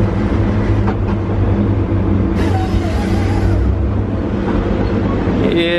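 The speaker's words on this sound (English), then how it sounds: "I can hear that mud in those tires right there" A Tigercat 635D skidder with dual tires grinds through mud, a heavy, steady engine rumble with wet churning that stays loud and continuous, and a few faint squeaks and clanks come through near the end.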